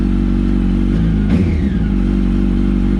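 A Yamaha R1 motorcycle engine running without silencers drones loud and close at steady idle, with a brief blip and clatter midway before the revs settle back down.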